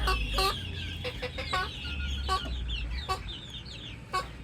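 Chickens cluck repeatedly in short bursts close by, with a mother hen among her chicks, over a low rumbling background; no one speaks.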